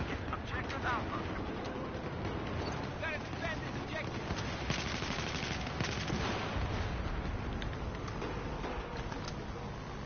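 Battlefield 4 gunfire crackles in rapid bursts and continuous rattling volleys under a busy game mix, with someone talking over it.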